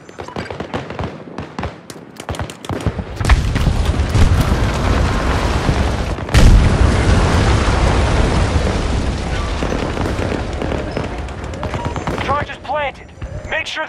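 An objective detonates in Battlefield 2042 Rush mode on the Manifest map, a heavy deep boom amid scattered gunfire, swelling into a long rumbling roar with a second blast midway, then crackling debris and shots trailing off.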